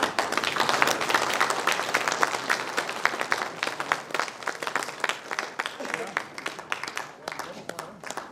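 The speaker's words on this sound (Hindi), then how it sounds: "अब मैं उम्मीद करता हूँ कि उनकी तरफ मेरी नजर वापस जाएगी कि अब भी वो ताली बजाते हैं या ना बजाते" A crowd at a BJP political rally claps and applauds in dense, sustained rippling bursts that fade slightly toward the end, with a voice speaking at times over the clapping.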